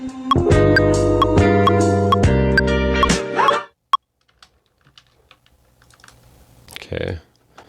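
Fast, steady tapping on a computer keyboard sets a tap tempo in Ableton, a run of crisp close clicks over a looping music sample, then a single tap and a few faint knocks after the music stops.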